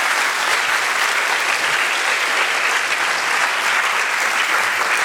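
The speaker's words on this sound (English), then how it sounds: "So these people, these 16 really deserve a round of applause." Dense, steady applause from a large convocation audience, continuous and even throughout with no pauses, fairly loud and close.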